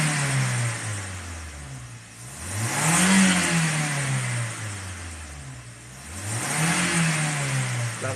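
A 2008 Toyota Avanza engine revs during carbon cleaning, climbing and falling in repeated blips about every few seconds from a steady idle, close and fairly loud, with no talking.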